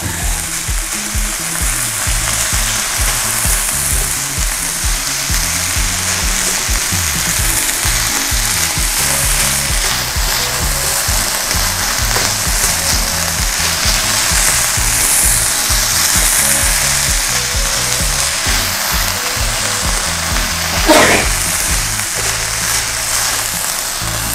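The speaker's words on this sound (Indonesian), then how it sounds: "lalu ayamnya kita masukkan lagi kita aduk rata" Chicken pieces with chili, sliced leek and bilimbi sizzle in a Teflon frying pan while being stirred, a steady loud frying hiss with frequent scraping strokes throughout and no voices.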